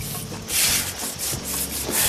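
Coarse salt being rubbed by hand into raw picanha beef, a close, steady rasping scrub in repeated strokes, heard alone with no talk.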